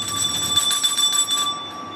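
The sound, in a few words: bell rung to call a Komodo dragon at the zoo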